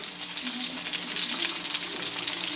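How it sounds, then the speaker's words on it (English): Heavy cream poured into melted cream cheese in a hot pan, giving a dense, continuous sizzling hiss that holds steady and close for the whole stretch, with no voices. "We're going in with 2 cups of heavy cream."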